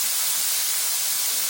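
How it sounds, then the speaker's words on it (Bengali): Boiled jackfruit fries in oil in a pan with spices, turmeric, salt and chili, giving a steady, even sizzling hiss up close with no other sounds. "কাঁঠালটা একবারে নেড়ে চেড়ে ভালো করে ভাজি করে নিতে হবে।"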